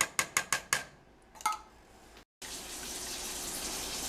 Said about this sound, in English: I add 3 cans of warm water